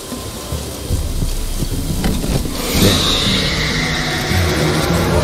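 Rain and rolling thunder in the game The Witcher 3: Wild Hunt, a steady loud wash of rainfall with a deep rumble swelling partway through, no voices.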